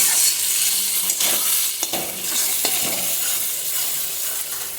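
Chicken pieces added to spice masala in a pan over medium gas, frying with a loud, steady broadband sizzle, broken by a few sharper stirring scrapes, with no voices.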